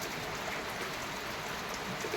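Heavy monsoon rain pours down in Jalna district as a steady, even hiss of dense drops, fairly quiet and unbroken throughout, with no voices.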